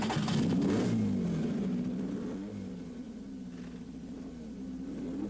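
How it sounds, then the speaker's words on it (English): A race car engine idles after starting up to warm, a low rumbling drone with a brief swell early on, then settling into a steady, fairly close hum, no voices. "when you first start the motor, make sure you give it plenty of time to warm up."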